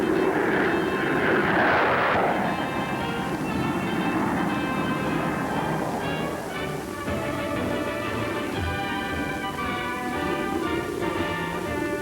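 A Bell P-59 Airacomet jet aircraft during a flight demonstration, its engine roar sustained and loud throughout with a slowly shifting whine, heard alone without talk.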